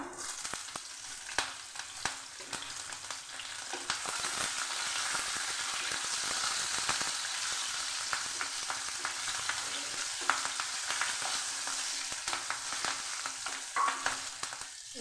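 Nigella seeds and slit green chilies fry in hot oil, a loud, close, continuous sizzle with crackling pops and occasional stirring, no voices.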